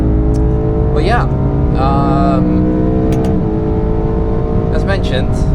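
BMW E92 M3 driving on the Nürburgring in hot weather, a loud steady engine drone inside the cabin with gear changes and shifting revs, with someone talking over it.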